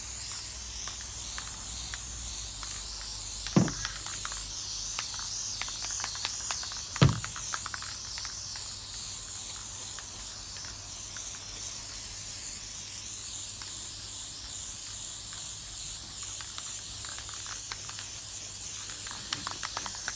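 Steady hissing spray of a wet Plasti Dip coat onto a hockey helmet, continuous and fairly close, broken only by a couple of brief knocks.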